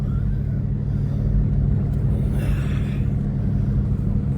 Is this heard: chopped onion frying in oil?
no